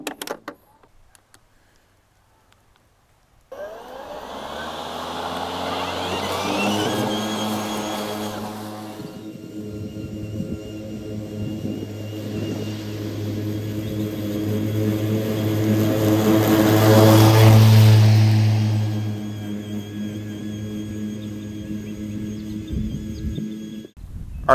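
An Ego 22-inch cast aluminum deck cordless mower on turbo blade speed starts up after a quiet moment, then whirs with a steady loud drone that swells and eases slightly, close by and alone.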